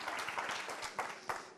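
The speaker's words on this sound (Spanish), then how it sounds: "Dale otro aplauso al Señor." Steady applause from a church congregation praising the Lord during a sermon, a continuous wash of many hands with a few sharper claps standing out near the end.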